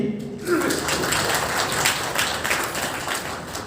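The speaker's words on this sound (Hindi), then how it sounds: "तो इनके लिए जोरदार ताली चाहिए भी।" A crowd claps steadily through a ceremonial lamp lighting at an RS Model School function, with a dense, even patter of applause that carries on without a break.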